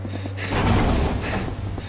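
Panicked, heavy breathing of the protagonist in the 2D pixel horror game Viviette, a close, loud gasping rush over a low sustained music drone, lasting under two seconds.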